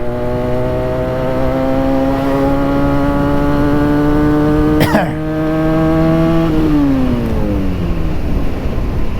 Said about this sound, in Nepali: कस्तो मजा आएको बाइक कुदाउनलाई भने